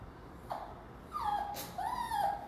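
A dog gives a few soft, high whimpering whines, one brief yip then two drawn-out wavering whimpers close by with no barking, from one of the abandoned dogs at a rescue in the Florida Everglades.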